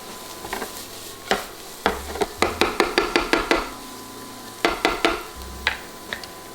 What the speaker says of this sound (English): Now I'm gonna add the garlic and ginger. Cook that for another maybe 2 minutes.